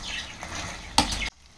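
Spicy chicken frying and being stirred in a pan, a steady close sizzle with a sharp scrape of the utensil near the end before it cuts off abruptly.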